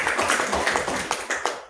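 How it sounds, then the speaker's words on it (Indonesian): Short burst of applause from an audience at a government focus group meeting, light scattered claps fading out after under two seconds. "Berikan tepuk tangan Bapak Ibu"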